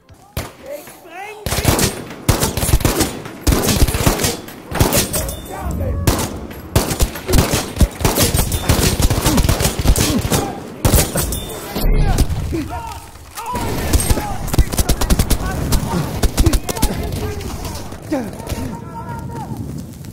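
Battlefield V combat: dense, near, loud gunfire with rapid automatic bursts and single cracks, plus occasional thuds and booms, running almost nonstop for about twenty seconds while someone speaks German over the shooting.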